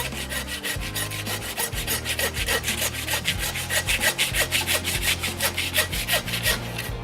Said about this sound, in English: So we're just going to start sawing to the top of the blade bone.